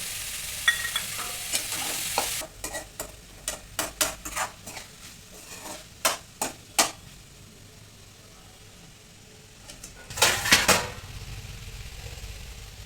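Wheat pasta cooks in a pan with a soft, steady sizzle, while a spoon stirs and scrapes, tapping the pan in a string of sharp clinks and a final louder burst of scraping.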